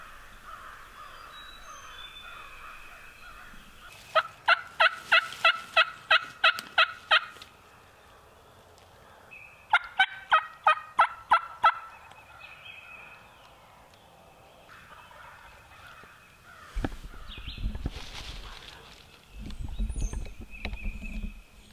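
A wild turkey gobbles in the spring woods in two loud rapid bursts of rattling calls, clear though somewhat distant, and later some rustling and low movement noise follows.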